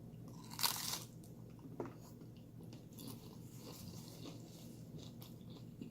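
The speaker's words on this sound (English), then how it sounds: "I have to have another bite, sorry." Someone bites into a crunchy chicken waffle taco with one loud crisp crunch, followed by quieter close-up chewing and mouth sounds, faint and without talking.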